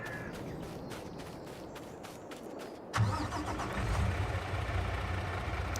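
A pickup truck engine in Farming Simulator 22 cranks and catches abruptly partway through, settling into a steady mid-pitched rumble after a stretch of quieter ticking and clicking noises.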